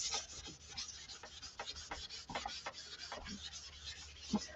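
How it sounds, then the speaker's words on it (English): Soft, quiet rubbing strokes from the microfiber side of a wax applicator smoothing wax over a surface, a steady back-and-forth swish heard close up with no talking. "you flip the wax applicator over to the microfiber side. And then it's just going to smooth out all of that wax."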